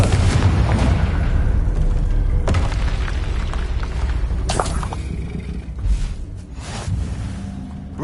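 Confringo spell explosions from Hogwarts Legacy, a continuous barrage of heavy booms and bursts of combat, loud and close throughout.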